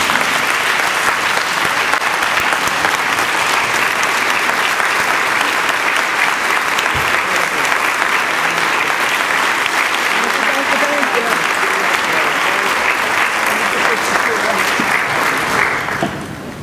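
Sustained, loud audience applause at a college Founders Day ceremony, a dense, even wash of clapping from a large crowd lasting about sixteen seconds before tapering slightly at the end.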